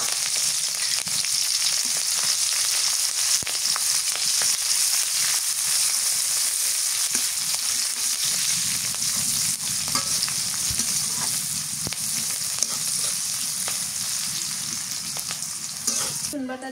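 Chopped onion hitting hot oil in a pan already tempered with whole cumin, panch phoron and green chillies, a bright steady sizzle lasting throughout with occasional stirring scrapes, cooked outdoors in a village kitchen.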